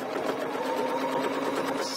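A domestic sewing machine stitches steadily across a quilt block during ruler quilting, a close, continuous mechanical whir with a fast needle rhythm running the whole time and no talk.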